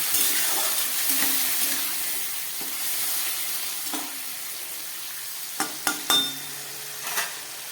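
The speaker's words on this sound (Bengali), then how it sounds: "এবার দিয়ে দিচ্ছি পরিমাণ মতো জল" Pointed gourd curry sizzling and frying in a pan, a steady broad hiss with soft stirring scrapes, then a few sharp spits and splashes as a little water goes in near the end.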